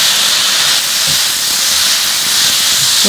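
Onion and chili stir-frying with king oyster mushrooms and fish cake in a seasoned sauce, producing a loud, continuous steamy hiss up close with no voices.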